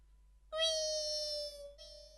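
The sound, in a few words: voice imitating a cat meowing while fish is being cut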